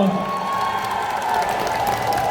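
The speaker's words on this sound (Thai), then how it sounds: "ขอเสียงปรบมือ" A studio audience at a Thai entertainment show claps and cheers in a continuous, lively wash, with a sustained tone running underneath.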